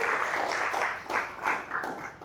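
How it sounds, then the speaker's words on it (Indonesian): A classroom group applauds a classmate, brief scattered clapping that comes in a few uneven bursts and fades within a couple of seconds. "Beri tepuk tangan untuk temannya"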